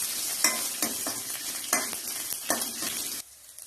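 Whole cinnamon, cloves, cardamom and mace fry in oil in a pan for mutton gravy. A steady, fairly quiet hiss carries rhythmic scraping stir strokes, then it drops off abruptly near the end.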